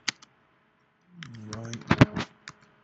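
Keys tapped on a Mac keyboard while entering a Terminal command, a few isolated clicks followed by a quicker run of keystrokes, close and crisp, with a person talking over part of it.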